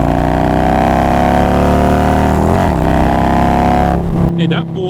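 A Harley Road Glide motorcycle engine roars loud and close at high throttle in third gear, a dense, continuous drone that dips briefly near the end while the rider talks over it.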